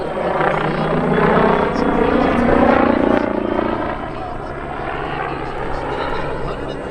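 Steady droning rotor and engine noise of a small single-engine helicopter at an air show, loud and continuous, easing slightly partway through, with voices faintly underneath.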